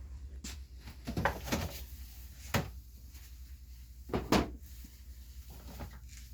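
A bedside drawer slides open and shut while lotion and soap are put away during a nursing-assistant foot-care routine, giving several soft knocks and thuds spread out at close range.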